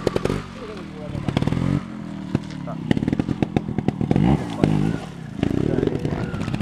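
A trial motorcycle revs and pops in sharp, irregular bursts while warming up for a trial event in Arnedo, engine blips stacking into rapid crackling runs, close and loud, with a voice talking over it.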